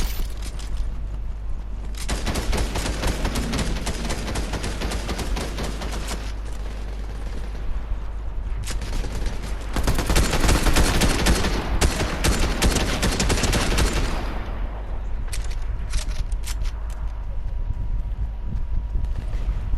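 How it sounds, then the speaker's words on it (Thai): Bursts of rapid gunfire in Fortnite, loud and dense in long stretches separated by brief lulls, with scattered single shots near the end. "เสียงปืนมาจากทางนู้นอ่ะ"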